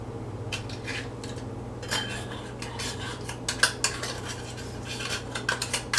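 A fork clinks and scrapes against a tuna can as the can is popped open and the fish is dumped into a bowl, giving a run of sharp metallic taps and scrapes over a low hum.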